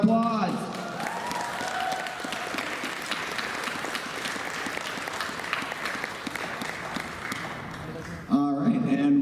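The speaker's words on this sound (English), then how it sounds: "Let's give them a big round of applause." Crowd at a Geek.Kon 2018 Masquerade costume event applauding the judges on stage, steady dense clapping with a few cheers, a voice speaking over it at the start and end.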